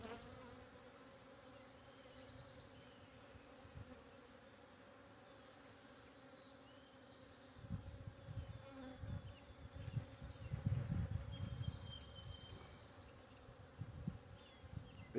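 Honeybees hum steadily around an open hive during a spring inspection, a soft continuous drone that grows busier and louder in the second half as the bees stir.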